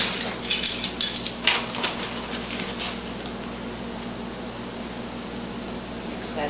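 Flour and sugar being stirred in a large mixing bowl for onion bread, with scraping, clinking utensil strokes in an irregular burst early on that fade into a quiet steady room hum.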